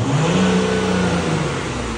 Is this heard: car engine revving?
yes